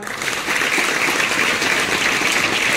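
Classroom of students clapping for their maths and geometry teacher, a dense burst of many hands that builds in the first moment and then holds steady and loud to the end.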